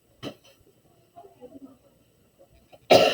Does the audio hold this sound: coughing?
yes